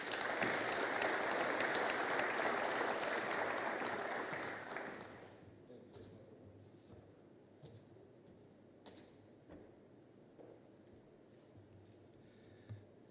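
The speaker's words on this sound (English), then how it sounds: "Please join me in a round of applause for President of the Senate, Nicolae Ciucă." An audience at a book launch in the Romanian Parliament gives a loud, sustained round of applause that fades after about five seconds, leaving a quiet hall with scattered faint ticks and small knocks.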